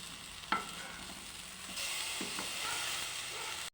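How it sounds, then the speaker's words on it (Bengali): Eggplant slices coated in turmeric and salt fry in oil, a soft steady sizzle that swells louder partway through after a couple of sharp clinks and scrapes of a utensil in the pan. "হলুদ নুন মাখিয়ে আগে বেগুনটা ভেজে নিচ্ছি।"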